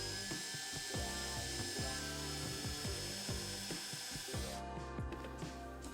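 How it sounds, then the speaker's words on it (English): Drilling a hole in a wooden base for a hand carving, a faint, grinding, rhythmic scraping and ratcheting of the bit biting into wood, steady and alone without any voices. "Once I knew the dowel fit correctly, I could drill the hole in the base."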